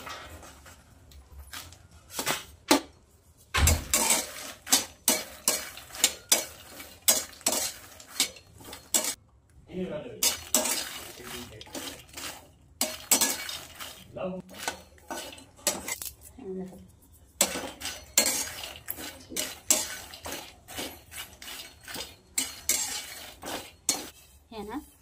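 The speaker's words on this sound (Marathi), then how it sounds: "हे मकाने भाजून घेऊया, त्याची नसताना बारीक गॅसवरच भाजून घ्यायचं" Makhana (fox nuts) being dry-roasted in a pan over a low flame, with a spoon clinking and scraping steadily against the pan in quick repeated strokes. A brief pause in the stirring breaks the clatter, and it sounds close.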